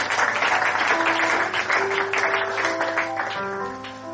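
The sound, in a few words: audience applause and cheering at a church gathering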